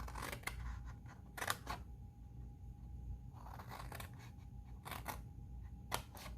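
Scissors cutting away a section of a paper treat box, several crisp snipping strokes in quick clusters with short pauses between, close and quiet, no talking.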